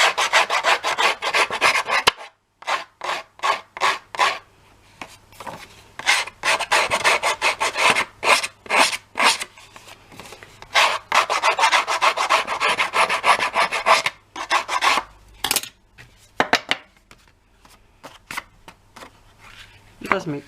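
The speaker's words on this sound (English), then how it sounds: "And my Distress ink blending tool from Ranger." A Ranger Distress ink blending tool rubbed hard over card, giving loud repeated raspy scrubbing strokes in quick bursts with short pauses, close up and continuous for long stretches.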